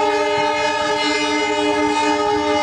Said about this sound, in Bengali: প্ল্যাটফর্মে প্রবেশ করছে আপ হাওড়া খড়গপুর লোকাল।